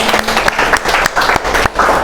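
Students in a biology classroom applaud a classmate with a brief burst of brisk, overlapping hand claps, steady and fairly loud throughout the two seconds.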